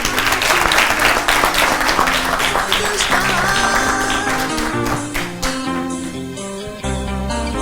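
Applause at a Senegalese children's contest ceremony as a school director is called up, clapping mixed with prominent tonal music and a few sharp taps, fairly loud and continuous before thinning near the end.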